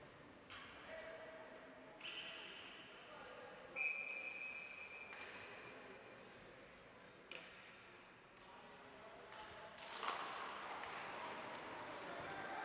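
A referee's whistle sounds at an ice hockey game between Princeton and Genesis, with a brief shrill blast amid arena noise, skate scrapes and distant crowd murmur.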